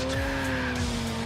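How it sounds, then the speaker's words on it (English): Truck tires screech in Cyberpunk 2077, a sustained, fairly loud squeal with a steady tone and low rumble beneath, heard briefly and alone. "it sounded like screeching tires from a truck or something."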